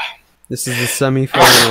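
A single sharp sneeze bursts out during casual banter among players of a Microsoft Paint drawing competition game, closely surrounded by voices talking.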